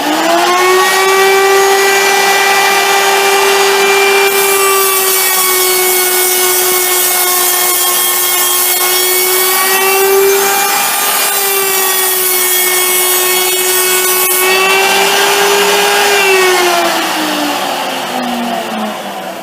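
A Bellinger L'il Giant rougher machine runs steadily while cutting wood butt strips, giving a loud, sustained tonal whine with a harsh sawing rasp that shifts pitch as the strip feeds through.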